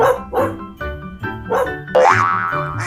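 Dog barking in quick bouncy bursts, about five close, clear barks with a springy cartoon-like quality, the last one a longer rising yelp.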